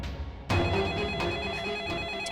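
A telephone rings in a home scene from a Hindi TV serial, starting abruptly and holding a steady electronic ringtone with faint background noise.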